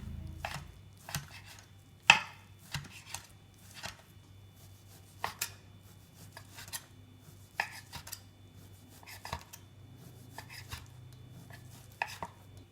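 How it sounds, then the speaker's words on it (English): A knife slicing ham into thin strips on a board, producing crisp separate chops in an uneven rhythm, close and clear over a low steady hum, with no speech. "flatten the ham like this and cut the slices into thin strips"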